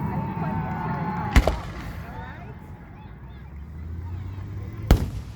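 Two sharp fireworks reports crack out a few seconds apart at a fireworks show, sudden and loud like rifle shots, over a background of crowd murmur and voices.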